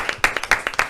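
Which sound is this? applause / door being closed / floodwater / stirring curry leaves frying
applause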